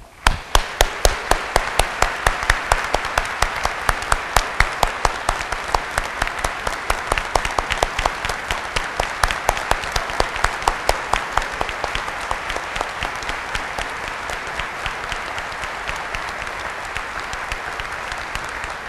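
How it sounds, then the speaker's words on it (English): Sustained applause from an audience at a university undergraduate commencement, a dense wash of many hands clapping alongside a few sharp, loud nearby claps that come at a steady rhythm and gradually soften over about nineteen seconds. "just a hand of approval and applause to him."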